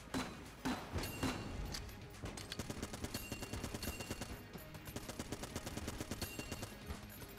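Rapid repeated gunshots from the video game Enter the Gungeon, a dense rhythmic stream of firing that runs nearly continuously and loudly with no talking.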